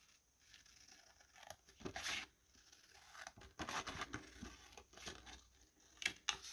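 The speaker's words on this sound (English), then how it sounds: "just cut out your triangles. You can use scissors or a craft knife." Paper being cut into triangles with scissors or a craft knife for patchwork card making, a few close, quiet snips and crisp rustling strokes, separated by short pauses with soft handling noise.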